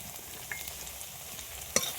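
Spice paste and small Japanese puti fish stirred together in a frying pan: a low sizzle with soft scraping strokes and one sharp clink near the end, no voices.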